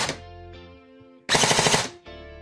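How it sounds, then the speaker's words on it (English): Rapid bursts of airsoft gunfire from a gun with a burst-mode MOSFET, about six quick clattering shots per trigger pull, loud and close, separated by a steady mechanical hum. "As you can probably hear, it now shoots around 6 shots each time."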